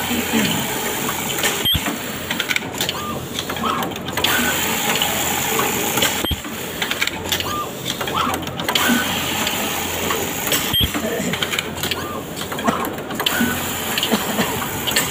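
A garment-factory elastic sewing machine runs steadily, a close, loud mechanical whir broken by a few sharp clicks as it pauses and restarts.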